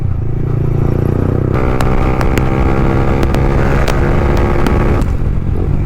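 A Yamaha R15 155cc motorcycle with a full-system exhaust roars loudly and steadily at close range, its engine note shifting as it downshifts through the gears.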